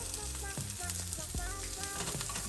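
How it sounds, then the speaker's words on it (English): Chuck roast searing in oil under a steak weight, a dense steady sizzle with crackling spits and a few low thuds, close and moderately quiet. "What I want to do is get a nice crust, a nice sear on that steak, or on that chuck roast rather."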